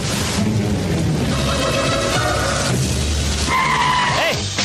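A car braking hard and skidding to a stop, a loud rumbling slide with tonal tire squeals rising near the end, close and continuous.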